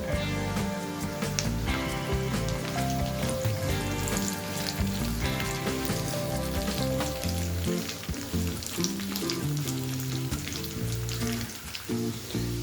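Continuous crackling sizzle of raisins frying in hot oil, dense and steady throughout with occasional louder pops.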